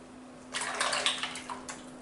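A Bic 3 Sensitive three-blade razor scrapes across stubble in short close strokes, a bristly rasp starting after a quiet moment and repeating a few times, with no talking.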